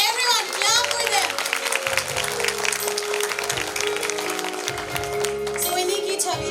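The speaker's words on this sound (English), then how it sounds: "Everyone clap for them." Loud, sustained audience applause after a teachers' dance performance at a school annual function, with dense clapping and crowd noise throughout and a background hum.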